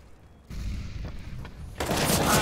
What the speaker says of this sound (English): disgusting headshot from Tass